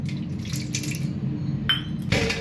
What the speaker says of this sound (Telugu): ఇక నేను పాలు పోస్తున్నానండి